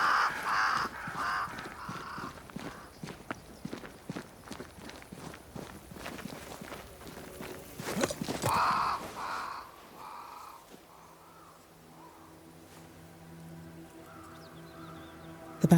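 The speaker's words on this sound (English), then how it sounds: "Crows. They flock to that great tree up there." Crows in the video game Banishers: Ghosts of New Eden caw repeatedly and loudly at close range alongside a dense run of footsteps, then fade out, leaving low ambient game tones.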